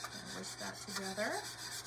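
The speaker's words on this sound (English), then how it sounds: "Whisk that together." Whisk scraping through French toast batter flavored with vanilla, a quick rhythmic rubbing rasp repeating close up in a bowl, steady over about two seconds with no talking.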